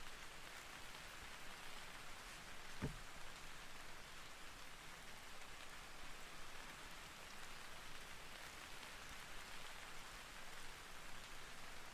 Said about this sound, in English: Love the way rain sounds.